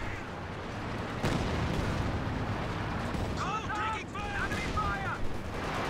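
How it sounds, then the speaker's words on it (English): Pack howitzer explosive barrage in Company of Heroes 2, heavy rumbling artillery blasts and gunfire rolling steadily through a loud battle soundscape, with a sharp impact near the start and whistling tones in the middle. "It's got the explosive barrage now."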